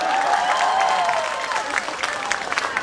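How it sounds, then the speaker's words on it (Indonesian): An audience bursts into sustained applause during an Islamic religious lecture, a steady dense clapping wash with a voice faintly audible underneath throughout. "Tepuk tangan buat tukang son."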